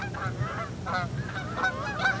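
Wild geese honk in repeated bursts during a Michigan goose hunt, several birds calling at moderate distance over steady low background noise, four or five honking clusters in quick succession.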